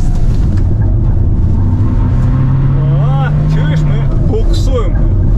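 Kia Carnival or Peugeot Traveller minivan tyres spinning during a standing launch, with a loud, steady engine drone and whirring, squealing wheel noise under ongoing talk in the cabin.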